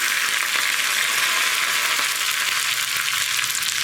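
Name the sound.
dried red chillies and curry leaves sizzling in tempering oil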